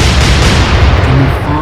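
Naval gunfire in the Atlantic Fleet video game, a dense sustained rumble of heavy shell bursts and booming cannon fire, loud and continuous throughout.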